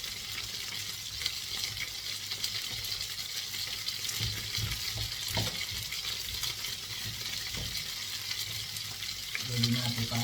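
Tomato and onion sautéing in a pan as the tomato is crushed, giving a continuous close sizzle with soft scraping and stirring knocks throughout; a faint voice comes through near the end.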